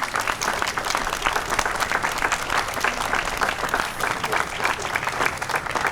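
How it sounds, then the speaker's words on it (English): Sustained applause from a Memorial Day service audience honoring a group of veterans, dense and steady with many hands clapping throughout, some crowd noise mixed in. "Please give them a round of applause."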